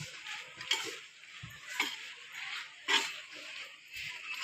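Eggplant being stirred and sautéed in a pan, with a few scattered scraping spoon strokes and soft clinks over a faint sizzle, fairly close and otherwise quiet.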